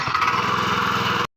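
Mini power tiller (rotavator) engine idling steadily after a self start, a loud, close, even buzzing drone with a fast regular pulse that runs unbroken before cutting off abruptly.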